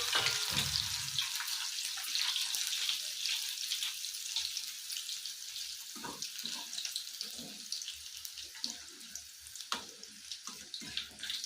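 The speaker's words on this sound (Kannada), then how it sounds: "ಈಗ ನೆಕ್ಸ್ಟ್ ಬೆಳ್ಳುಳ್ಳಿ ಹಾಕ್ಕೊತಾ ಇದ್ದೀನಿ" Garlic dropped into hot oil in a pan for a sabudana mixture snack, giving a bright continuous sizzling hiss throughout with scattered low knocks and pops.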